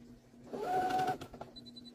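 Sewing machine stitching the core fabric to the topper of a cloth pad, a short close whirring run of about a second after quiet, then fading taps.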